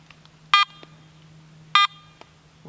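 Two short, clear electronic beeps about a second apart from a metal detector sweeping for iron at an overgrown 1700s colonial homesite in New Hampshire, with a steady low hum underneath.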